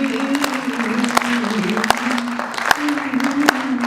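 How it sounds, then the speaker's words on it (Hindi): Audience applause at a Hindi poetry recital, broad steady clapping that fills the clip, with a sustained tonal hum or voice-like drone running underneath throughout. "जब मैं हूँ करूँ तो जोरदार ताली बजा दिया"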